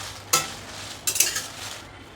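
Chillies roast in a pan while being stirred, with a couple of sharp scraping stirs over a quiet, faint sizzle, close up and with no voices.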